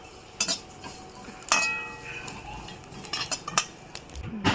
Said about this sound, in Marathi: ही बडीशोप भाजून घेणार। जास्त नाही भाजायची आहे, ती भाजायची।